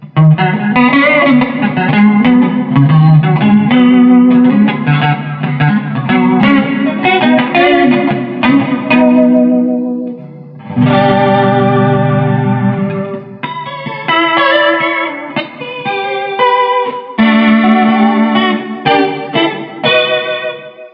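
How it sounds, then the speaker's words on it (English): Electric guitar through a Danelectro Big Spender rotating speaker pedal, playing sustained chords and melodic lines with a swirling, warbling Leslie-like modulation, steady and close with a brief pause midway. "you could almost get some kind of like Leslie keyboard tones out of this"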